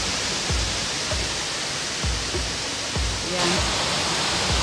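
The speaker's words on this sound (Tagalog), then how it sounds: "Kaya siya tinatawag na Shiraito Falls." Shiraito Falls in Japan pours as a loud, dense, steady roar of falling water close by, unbroken throughout, while a person speaks briefly over it.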